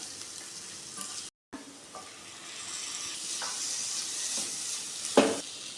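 Chickpea masala being stirred in a frying pan with chilli powder, Kashmiri chilli powder and garam masala, a steady close sizzle with occasional spoon scrapes against the pan.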